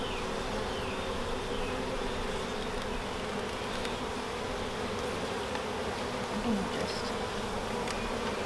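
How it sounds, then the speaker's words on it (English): Honeybees buzz around a newly installed hive during a beekeeper's first inspection, a continuous close hum with individual bees passing near, steady for several seconds with no talking. "And there's a couple bees in the cage."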